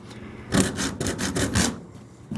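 Someone cuts down hardened Bondo body filler on the hood of a 1929 Chrysler, making about five rhythmic rasping, scraping strokes close by, with short pauses between them and no talking.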